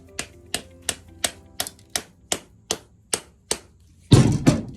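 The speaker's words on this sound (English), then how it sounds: "And then I use my trusty little rubber mallet here" A rubber mallet taps a window shrink-wrap frame into its channel with about eleven evenly spaced, sharp knocks, followed by a brief burst of heavier, rougher thumping and handling.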